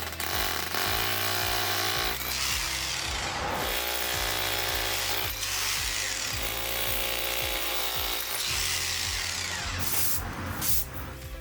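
A power drill bores out and enlarges holes in an aluminum railing post on a concrete porch, a steady whining, grinding drone running loud and continuous throughout with a few shifts in pitch as the bit works the metal.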